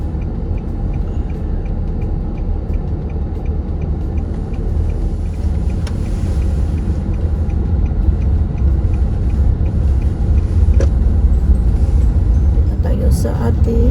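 A car idles behind a stopped school bus and then drives off, its steady low engine rumble growing slightly louder toward the end, with a voice speaking over it.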